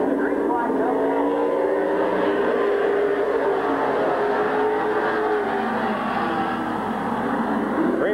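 Race cars at Midvale Speedway pull away on a green flag restart in 1999, a dense roaring pack of engines sustained throughout, with a commentator talking over it.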